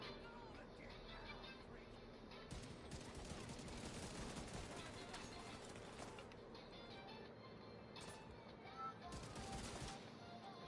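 Rifle gunfire in The Division 2, sustained rapid shots blending into a dense, continuous clatter with bursts and game noise layered throughout, loud and close, with speech-like chatter mixed underneath.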